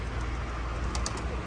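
Pigeons coo in a brief, steady burst near a rural Punjab home, the soft repeated calls sitting over a constant low background rumble with no talking.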